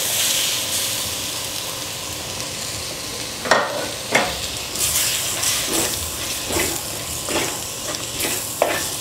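Chopped tomatoes sautéing in a pan with garam masala, a steady soft sizzle broken by several sharp clinks and scrapes of a spoon stirring, close and moderately loud, with no voices.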